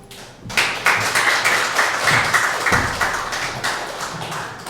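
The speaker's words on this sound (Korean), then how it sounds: "설교하러 올라오는데 박수까지 쳐주시고" A church congregation at a Sunday anniversary service in Guam claps for the pastor as he comes up to preach, a burst of many hands starting abruptly after a quiet moment and holding steady, fairly close, with no talk over it.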